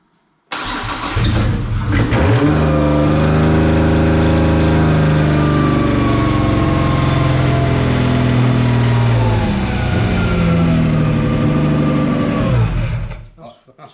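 A Nissan R33 Skyline cranks and catches, settling into a loud, steady idle close by for about thirteen seconds before cutting off. Faint voices can be heard under the engine.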